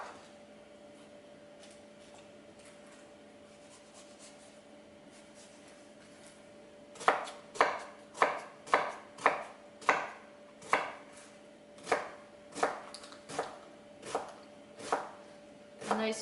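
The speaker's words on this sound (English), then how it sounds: "you don't need to be too careful with the chopping" Quiet kitchen hum, then a knife chops an onion steadily on a cutting board, about a dozen crisp close strikes in a regular rhythm.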